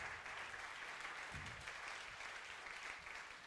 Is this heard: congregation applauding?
yes